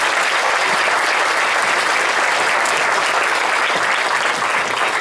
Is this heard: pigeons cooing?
no